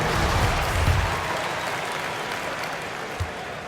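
Home crowd in an NBA 2K23 basketball game cheering and applauding, a steady broadband roar at full strength that eases slightly over the seconds with a brief thump near the end.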